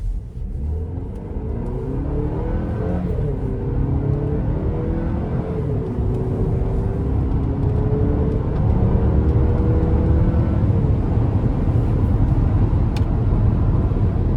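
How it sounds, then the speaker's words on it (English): A 2026 GMC Acadia AT4 AWD with some miles on it accelerates onto an interstate, its engine rumble and rising whir building steadily and loud throughout, with road noise and no talking. "We're gonna give it a pull getting on the interstate here."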